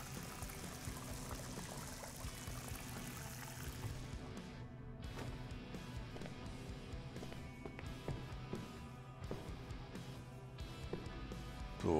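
Water pouring in the Crime Scene Cleaner video game, a continuous faint rushing stream that softens partway through and then carries on steadily.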